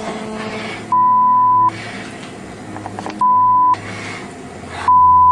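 A dying phone sounds a steady electronic beep three times at even intervals, each tone held about half a second to a second, loud and close over quiet room noise.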